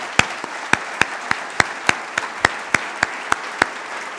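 Sparse applause at a white coat ceremony: a dozen separate sharp claps spaced evenly across the room, with no voices over them.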